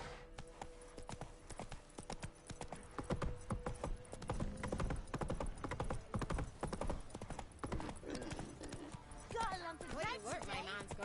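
A horse gallops in The Witcher 3 video game, its rapid clip-clop hoofbeats steady and close throughout, mixed with other game sounds and a neigh-like cry near the end.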